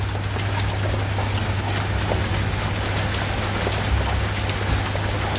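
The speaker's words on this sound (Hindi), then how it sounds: "और बाहर बारिश की आवाज़ सुनो ज़रा।" Steady, heavy rain pours down outside in the UK without a break, a dense hiss of drops hitting surfaces, with a low constant hum underneath.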